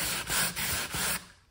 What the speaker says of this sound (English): So here I'll just pull those small parts and then I'll try to sand it.